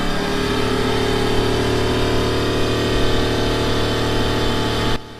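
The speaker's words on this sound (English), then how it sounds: "The first thing you hear is the operation of the oil pump." A steady mechanical whir and hum of the oil pump running on a TE10M locomotive's 3,000-horsepower diesel engine, constant and fairly loud, cutting off abruptly near the end.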